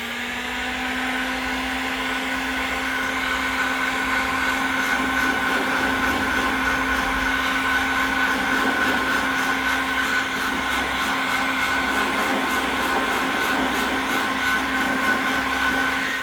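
A heat gun blows steadily and loudly with a constant whining drone while warming vinyl wrap covering to remove impact marks; no one speaks.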